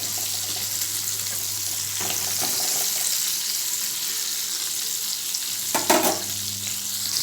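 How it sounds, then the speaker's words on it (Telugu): Flour-coated chicken fries in hot oil over a medium flame for home-made KFC-style chicken, a steady hiss and sizzle with brief clatters of stirring or handling. "ఇలా కోట్ చేసేసుకొని ఆయిల్ కూడా వేడిగానే ఉంది కాబట్టి ఈ విధంగా మీడియం ఫ్లేమ్లో వేయించుకోవాలి"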